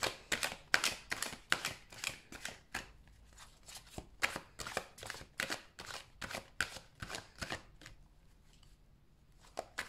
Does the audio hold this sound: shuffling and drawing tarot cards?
yes